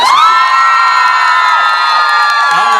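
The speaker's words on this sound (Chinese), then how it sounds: "再次给自己一个掌声加尖叫声" A concert crowd at an outdoor mother's-day culture festival show cheers and screams loudly and continuously, high excited voices blending into a sustained roar with light applause underneath.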